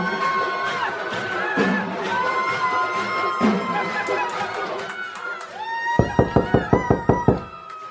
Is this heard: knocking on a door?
yes